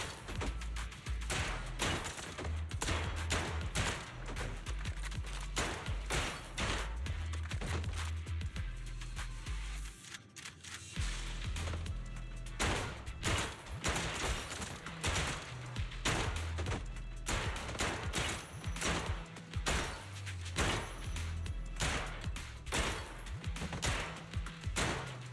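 Gunfire at a shooting range in Zenless Zone Zero, rapid loud repeated shots and impacts that are dense and continuous, mixed with game music and effects, with one short lull.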